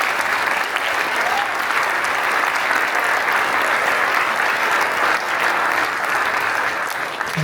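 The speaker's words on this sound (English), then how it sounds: "So let's give a big round of applause." Sustained audience applause fills a hall at a panel event on mental health and addiction in sports with hockey players, steady and dense throughout with no break.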